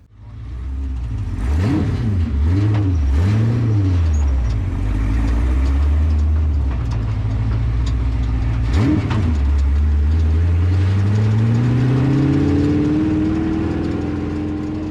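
Off-road race car driving the Baja 1000 course in Mexico, its engine loud and continuous throughout, revving up and down in repeated swells and then climbing steadily through the gears, close and without talk.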